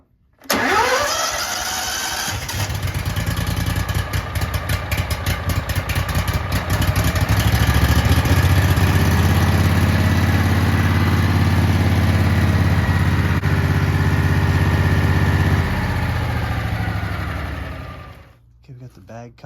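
Gas engine on a Versa-Vac insulation removal vacuum, pulled to start on choke, catching quickly and then running at a loud steady idle with a deep throbbing drone before cutting off near the end.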